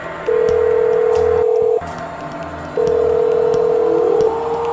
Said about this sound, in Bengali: শব্দলের কাছে ফোন দি।